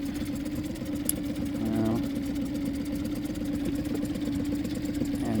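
An engine idles steadily on a test run after its injectors were cleaned and replaced, a close, even mid-pitched running hum with a faint brief change partway through.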